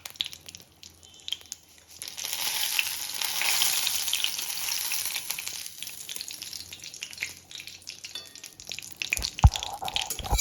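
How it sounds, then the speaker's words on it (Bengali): Stuffed pointed gourd (potol pur) frying in a pan, a steady moderate sizzle that fades near the end, followed by a few brief clattering knocks. "এইভাবে এক এক করে আমি সবগুলো ভেজে নেব"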